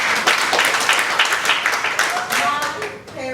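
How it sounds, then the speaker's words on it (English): A live audience bursts into a full round of applause for a woman at an influence-and-storytelling coaching event, dense clapping sustained throughout and tapering near the end, with a voice briefly heard over it. "Can we give her a Cynthia round of applause?"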